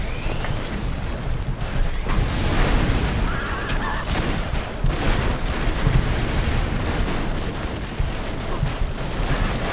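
Continuous dense gunfire and explosions roar in the Broforce video game as players shoot upward at a boss, a loud, unbroken barrage with scattered booms and voices faintly under the noise.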